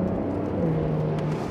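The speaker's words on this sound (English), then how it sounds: "it has a rear-mounted flat six engine, turbocharged, of 3 litres" Porsche 911 with a rear-mounted 3-litre turbocharged flat-six, heard as a steady engine drone with a faint whir, continuous and fairly close throughout, with no talking.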